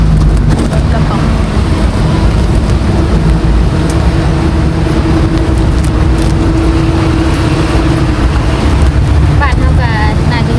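Ride aboard a small rot krapong minibus in Bangkok traffic, with a loud, steady engine drone and road rumble running throughout and people talking over it.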